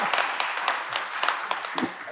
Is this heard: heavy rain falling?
no